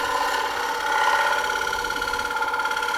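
A wood lathe spinning a platter blank while a gouge cuts, a steady humming whine with a continuous rough scraping hiss of the tool against the wood, close and even throughout with no speech.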